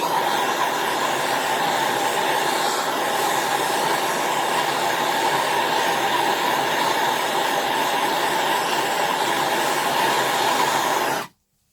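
A heat gun warming the metal tang washer on a WW2 Zundapp KS600 motorcycle engine during strip down, with a steady loud blowing roar that runs unbroken for about eleven seconds and then cuts off abruptly.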